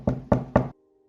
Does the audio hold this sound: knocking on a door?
yes